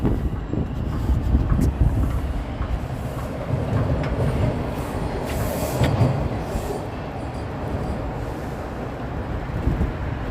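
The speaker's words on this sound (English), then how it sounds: "Is this a northbound train or a southbound train?" A southbound subway train at Davisville Station in Toronto rumbles loudly through the platform, with rolling wheel noise, clicking rail joints and occasional high wheel squeals over about ten seconds.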